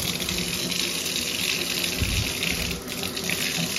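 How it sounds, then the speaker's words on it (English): A kitchen faucet runs in a steady, continuous stream into a sink, with water being run until hot before filling a Bissell Big Green carpet cleaner tank; the flow is even and close, with no voices. "We're going to run the water faucet until we get hot water."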